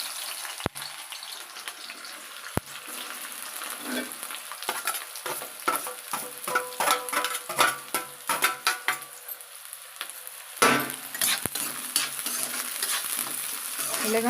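Onions sizzle and fry in hot oil for chicken curry, a loud continuous hiss broken by bursts of crackling and stirring scrapes as they are mixed in the pan, with no talking over it.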